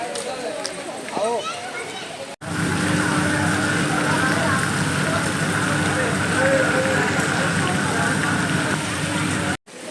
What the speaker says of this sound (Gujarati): ભગુડા પહોંચતા જ વરસાદ શરૂ થઈ ગયો છે